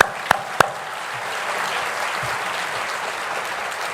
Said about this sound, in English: Let's give the band another round of applause.